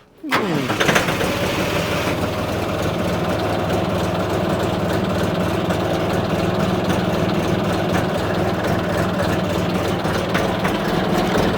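A small diesel engine of a YTO 244SX compact tractor cranks over and catches, then idles steadily and loudly close by for the rest of the clip.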